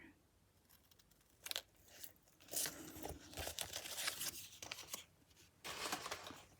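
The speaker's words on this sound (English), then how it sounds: "I'm going to cut it in half right here." Scissors cutting a paper sentiment in half for a handmade card, several crisp snips and crinkles in short bursts, close and fairly quiet, with no talking.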